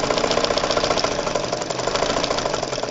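A vintage Dressmaker zigzag sewing machine runs steadily, a fast rhythmic mechanical chatter at even speed, close and continuous with no talking.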